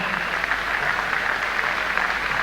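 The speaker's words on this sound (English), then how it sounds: "Come on, give Shane Fossey Hooper a big round of applause as he heads back to Townsville." Audience applause for a boxer heading back to Townsville, a steady dense wash of clapping from a crowd at a fight event that holds evenly loud throughout with no voices on top.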